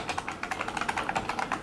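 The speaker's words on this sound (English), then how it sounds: "I'll show the clip of the IBM Model M typing" Rapid, steady typing on an IBM Model M mechanical keyboard: a dense run of crisp, clacky keystrokes, close and clear, with no voices.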